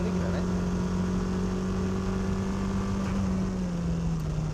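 A lowered car drifting sideways, its engine holding a loud, steady drone with a slowly falling pitch, continuous and close throughout.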